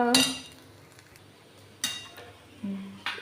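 A few sharp metallic clinks and scrapes of a spoon against a dish come while kanda batata poha is served out, spaced apart over a quiet background.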